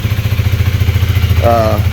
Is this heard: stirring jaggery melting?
no